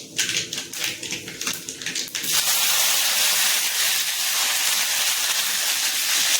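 Mustard, fenugreek and fennel seeds crackle in hot oil for a brinjal kuzhambu. Quick sharp pops come first, then settle into a loud, steady close-up sizzle.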